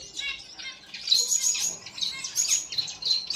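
A Bengalese finch sitting on eggs chirps on a small farm, giving repeated high, bright tweets in quick irregular bursts, close and clear against a quiet background, with no talk.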